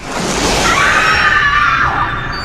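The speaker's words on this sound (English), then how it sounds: "A victim waiting to scream." A scream from a victim in a horror movie spoof trailer, loud and sustained at mid pitch, rising over a dense, noisy backdrop and then fading.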